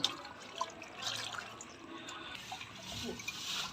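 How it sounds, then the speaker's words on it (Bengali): Water pours into an air cooler, a close, uneven splashing and gurgling with small bursts over a low running-water wash. "চলো জল ঢেলদি কুলারে বেশি করে জল ঢালো"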